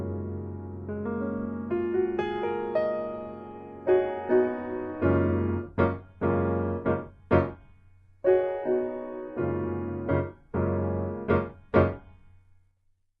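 An Alicia Keys virtual piano in a hip hop jazz beat plays sustained chords at first, then shorter, detached chord stabs with gaps between them, clear and close with no voices.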